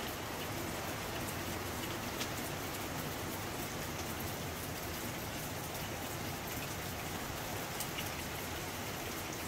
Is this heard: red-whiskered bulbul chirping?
no